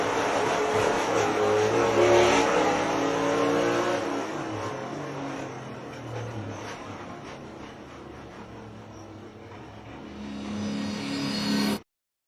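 A race car engine revs hard, loud and close at first, then settles into a lower sustained drone before surging again and cutting off abruptly; no voices.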